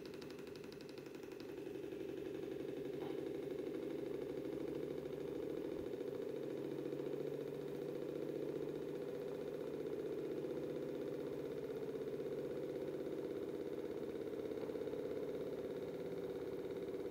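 A Newman motor running under a load test gives a steady, continuous mid-pitched hum with a faint rattle. It holds evenly throughout, close up and alone, with no talk.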